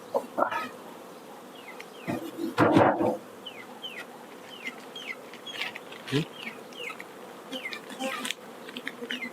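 Carniolan honey bees buzz around an open hive, a close, wavering hum with passing buzzes. Faint bird chirps sound behind, and a few louder handling knocks and rustles come in between.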